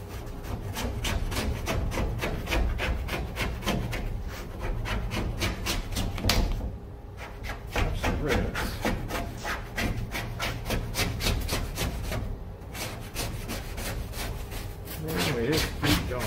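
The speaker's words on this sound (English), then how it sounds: "Got the area roughly scraped." Steady scraping of old paint from the wooden hull of the Ambrose boat, a dense run of close, rapid rasping strokes continuing almost without pause, with two brief breaks.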